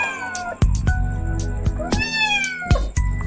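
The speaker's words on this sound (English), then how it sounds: "C for cat. Cat." A cat meows several times in drawn-out, wavering cries, close and clear, with short knocking sounds between the calls.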